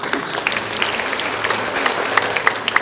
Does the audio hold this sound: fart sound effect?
no